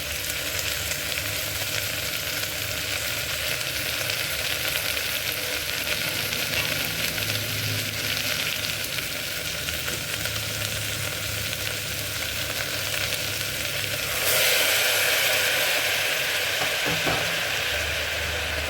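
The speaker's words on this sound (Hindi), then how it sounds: "अब मसाले जब तक अच्छे से भून जाएं तब तक हम इसे भूनेंगे" Spices and green beans fry in a pot with a steady, loud sizzle that continues throughout, and a brief surge of hissing comes near the end.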